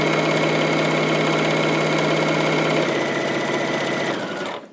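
A sewing machine runs at a fast, steady whir while double stitching a folded strap down onto a market tote bag, loud and close, then slows and stops near the end.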